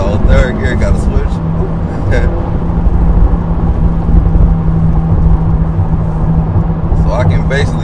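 Acura Integra pulling at full throttle toward redline, a continuous loud engine drone with road roar from the cabin, talk at the start and again at the end.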